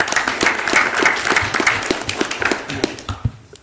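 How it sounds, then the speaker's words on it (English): A board of directors meeting audience gives a round of applause, loud and close, with distinct individual claps over a dense patter that tapers off near the end. "Y'all give him a round of applause."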